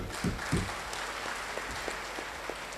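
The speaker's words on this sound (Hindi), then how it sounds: "उनके लिए एक ज़ोरदार ताली होना चाहिए" A room full of people claps in a loud, sustained round of applause at an achievers training event, the dense clatter running steadily throughout with no talk over it.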